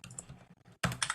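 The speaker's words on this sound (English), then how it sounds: "The sounds of the dice roller is stressing me" A dice roller clatters in two bursts: a rattling shake, a short pause, then a louder tumbling roll of dice, close and dry with no voices.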